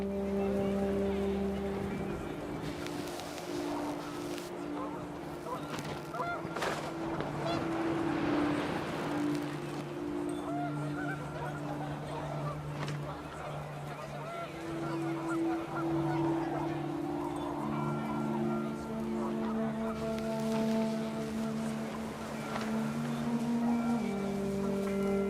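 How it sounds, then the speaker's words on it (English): Geese honk in a panicked flurry outdoors on a windy day, their calls rising and falling over steady wind and layered tonal noise that runs throughout. "The wind picked up, and panicked geese appeared and quickly went."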